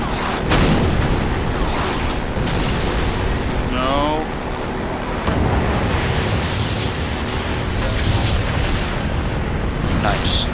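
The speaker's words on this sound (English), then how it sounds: "Shot at with missiles." Missile explosions boom and rumble in Half-Life 2, loud and continuous over a roaring battle bed, with speech also present.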